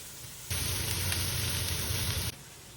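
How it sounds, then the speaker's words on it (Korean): Loud, steady sizzling of pork belly frying in a hot pan, starting abruptly and holding constant for about two seconds before cutting off. "요렇게럼 삼겹살을 앞뒤로 야무지게 구워줍니다."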